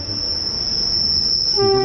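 A train rumbles past with a loud, sustained high-pitched wheel squeal, and a horn-like tone rises right at the end, near Kambre in Maval taluka.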